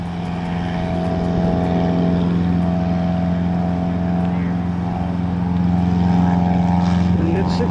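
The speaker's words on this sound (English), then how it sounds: "When he hits 60 miles an hour, he'll pull up. There he goes. He's flying. Perfect. Perfect takeoff." Cessna 150 light aircraft on its takeoff roll, a steady propeller drone that grows slightly louder toward the end, heard from nearby with faint talk mixed in.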